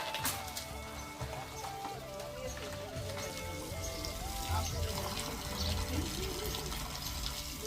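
Water pours and splashes steadily while stones and a small water tank at a farm bird-feeding platform are washed, a continuous close trickle and slosh with scattered drips.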